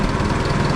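A small engine, likely on 1970s farm equipment, idles steadily after a cold start, with a continuous low, even chugging that stays loud and close throughout.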